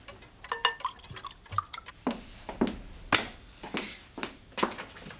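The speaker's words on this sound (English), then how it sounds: "Now get pouring." Liquid pours and drips into a glass in a quiet indoor room, a run of short splashy trickles and droplets that recur irregularly, fairly close and soft, with no talk over it.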